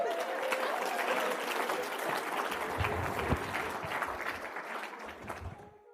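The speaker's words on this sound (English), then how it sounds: "half the room applauded" An audience breaks into a sustained round of clapping, a dense wash of hands that holds steady before thinning and fading out near the end.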